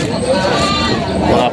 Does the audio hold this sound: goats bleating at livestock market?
yes